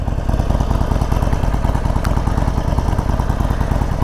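A new Harley-Davidson motorcycle with chrome stock exhaust idling close by, a steady loud rhythmic engine thrum with a regular pulsing beat and no speech.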